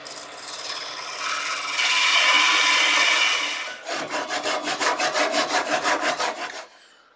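A lime wood cylinder spinning on a lathe is parted off. A steady rising scraping hiss from the cutting tool is followed by a quick run of rhythmic rasping strokes before it stops.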